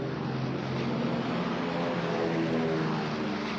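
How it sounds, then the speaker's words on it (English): WWII Marine Corps propeller planes taking off at Midway roar with a steady, dense engine drone that stays loud and unbroken throughout. "Many of these Marine planes taking off were destroyed by the Japanese fighters attacking the island."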